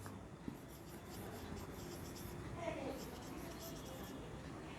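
Pen or pencil strokes scratch across paper as numbers are written by hand, faint and close, with soft rubbing marks under a quiet background and a few brief bursts of scribbling.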